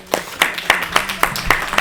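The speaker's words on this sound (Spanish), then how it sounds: "un aplauso para la Mónica." A handful of loud, evenly spaced claps ring out close by at a panel discussion, sounding like a few people clapping in steady rhythm rather than a full crowd.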